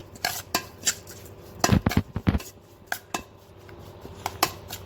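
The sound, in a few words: stirring chopped onion with powdered onion, salt and black pepper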